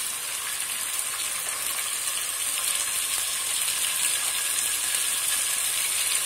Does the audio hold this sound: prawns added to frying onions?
yes